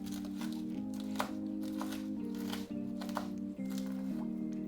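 Chewing through crispy fried chicken with bacon sauce makes soft, repeated crunches and crinkles up close, faint against a steady tonal background.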